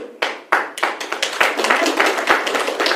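An audience claps at a talk on workplace life, starting with a few sharp separate claps and quickly building into dense, fairly close applause.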